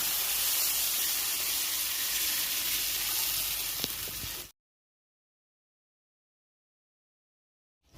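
Coconut milk poured into hot spice paste sizzling in oil for an egg curry, a steady loud hissing sizzle that cuts off abruptly into silence.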